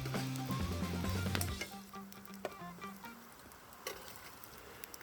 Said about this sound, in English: These are my grits I'm frying.